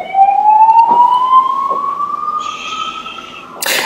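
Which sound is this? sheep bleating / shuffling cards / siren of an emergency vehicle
siren of an emergency vehicle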